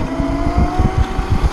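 A 1600-watt electric scooter climbs a steep hill at full throttle, its motor whining steadily under rhythmic thumping and wind buffeting, close and moderately loud, with no talk.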